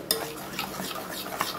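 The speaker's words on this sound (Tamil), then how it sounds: "இதோ இப்படி நம்ம வந்து நல்லா கலக்கி விட்டுக்கலாம்" Sugar is stirred in a pot on the stove, with quick scraping and tapping of a utensil against the pot over a soft background crackle.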